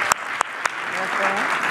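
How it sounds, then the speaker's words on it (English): Applause from a summit audience at a rocket foundation event, a few sharp claps at the start swelling into a continuous wash of clapping, with a speaker's voice faintly audible beneath. "Please give them a big round of applause."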